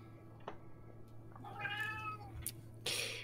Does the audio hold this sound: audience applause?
no